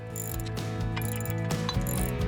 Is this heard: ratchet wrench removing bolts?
yes